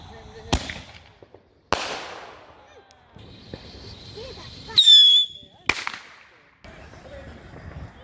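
Backyard Fourth of July fireworks pop off close by in several sharp, separate bangs, with a shrill whistling squeal partway through and quiet gaps between blasts.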